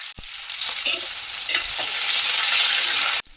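Onions sizzle loudly in hot oil with cumin seeds in a pan on a gas stove, a steady bright frying hiss that swells after a stirring clatter midway and cuts off abruptly near the end.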